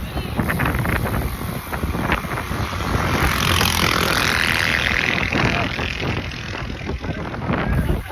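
Steady rushing wind buffets the microphone throughout on a cool sunrise bike ride to Calatagan, Batangas, a loud continuous roar with gusty swells and no voices.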